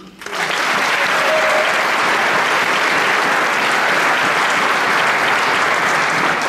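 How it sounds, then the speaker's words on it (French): A concert audience at a 2017 showband gala breaks into loud, sustained applause. The clapping swells within the first half-second and holds as a full, even roar to the end. "peut applaudir aussi"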